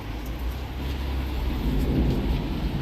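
Rain falls close beside a wall, a steady low rushing roar with a faint patter on top, continuous and fairly loud with no talking.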